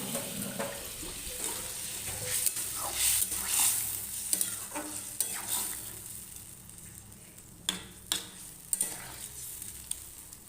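A little water, including the water used to rinse the spice bowl, is added to spices frying in a pan for a rohu fish curry with vegetables. The pan sizzles and hisses, with soft stirring scrapes and a few sharp clinks near the end.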